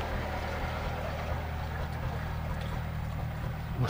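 Another narrowboat passes along a canal, its engine a steady low drone and rumble with a faint wash of water and air, continuous and fairly close, with no talk.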